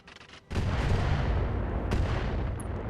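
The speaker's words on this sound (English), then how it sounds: "So we now know that this Dragon 2 is running an artillery." Artillery fire from a Dragon mech in RogueTech: a loud, sustained roaring barrage begins abruptly after a brief quiet start, with a second sharp crack near the two-second mark.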